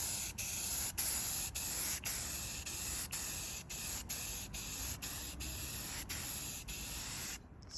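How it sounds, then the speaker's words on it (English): Steady hiss of an aerosol can spraying black paint onto Dana 60 axle parts of a 1978 Power Wagon, held in long continuous bursts with brief pauses every half second or so, close and unbroken by talk. "Let's spray some paint."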